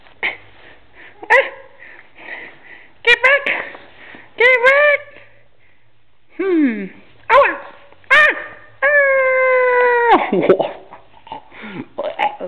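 A dog close by yelps, whines and howls in a string of rising and falling cries, with long drawn-out wails between short sharp yips.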